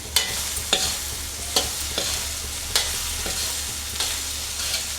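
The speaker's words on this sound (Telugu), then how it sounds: "బాస్మతి రైస్ అనేది మొత్తం కడాయిలో వేసి మనకి ఎంత కావాలో అంత వేసేసి రైస్ అంతా కూడా మంచిగా టాస్ చేసుకోవాలి" Basmati rice tossed and stir-fried in a kadai for veg fried rice: a steady sizzle with sharp metallic scrapes and clanks of the spoon every second or so, close up and without talk.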